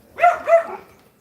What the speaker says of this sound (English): I just got a couple of brand new dogs